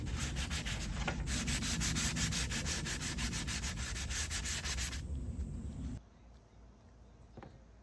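Sandpaper rubs back and forth on wood dining chair parts in quick, even strokes, close and steady for about six seconds before stopping, followed by a faint knock.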